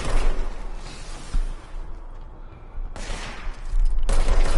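Gunfire in the video game Control in bursts, a loud volley at the start, quieter shots in the middle, then another heavy burst of fire near the end, with a few whooshing sweeps.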